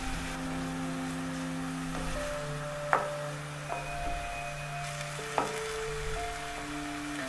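Diced carrots sauté in a pan as soft, steady frying sizzles and faint hums, broken by a few sharp clicks of a utensil against the pan, heard close with no one talking.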